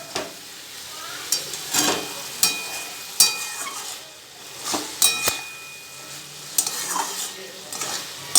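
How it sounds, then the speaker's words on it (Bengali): Shapla water lily stems cooking in their own released water and oil in a pan, a close steady sizzle broken by repeated stirring scrapes and light clinks of a spatula against the pan. "এই জলটাতে শাপলা রান্না হবে"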